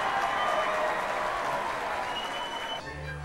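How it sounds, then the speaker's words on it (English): Audience applause for a contestant in a puppet show, a dense, steady wash of many hands clapping that fades slightly near the end, with faint tonal sounds over it. "Let's give her a nice round of applause."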